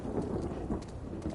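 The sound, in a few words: rain and thunder in the video game The Last of Us 2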